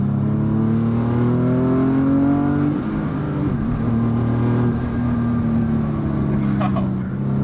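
A big-turbo Infiniti G37 coupe pulls hard at full throttle, the engine note climbing steadily through one gear, dipping at a shift, then rising again loud and close.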